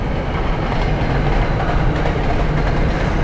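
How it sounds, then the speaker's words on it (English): A loud, close train rumbles past a 2020 Mazda MX-5 Miata on the road, dense roaring noise and rhythmic rail clatter filling the whole moment. "Hey, there's the train."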